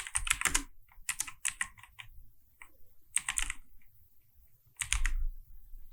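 Fingers type a Kotlin print statement on a computer keyboard in short bursts of quick, crisp key clicks separated by pauses, close and clear with no talking.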